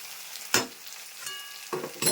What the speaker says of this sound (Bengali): এই যে ভেজে ভেজে ভেজে তারপর নামাবো।